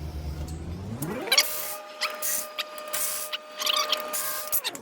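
Power socket tool spinning out 10 mm bolts from the brake dust shield of a 2008 BMW E90 128i, a close motor whir that rises in pitch and holds steady with rattling clicks.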